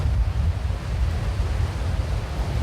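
Wind blows in the video game Swan Song, a steady, fairly quiet rushing noise with no voices.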